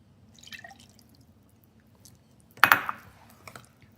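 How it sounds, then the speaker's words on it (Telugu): Lemon juice splashes into a bowl of cauliflower pickle in one sharp wet burst, then a few softer drips trail after it, close and fairly quiet against a low steady background. "లెమన్ కూడా వేసేద్దామండి?"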